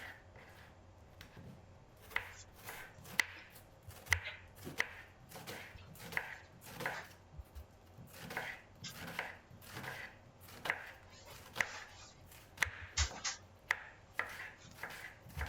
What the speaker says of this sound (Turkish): Julian şeklinde uzun uzun soğanları doğruyorum.